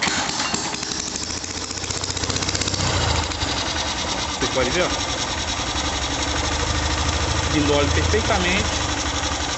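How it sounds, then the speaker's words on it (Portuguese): A Honda Titan 150 motorcycle engine, running without its catalytic converter, idles with a rough, rattly exhaust note, running steadily throughout while someone talks over it. "Aí vai dar um barulhozinho estranho porque ela tá sem o catalisador, viu? É só o barulho do escapamento aqui."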